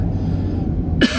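A single sharp cough bursts out close to the microphone near the end, following a second of steady low room hum with no talking.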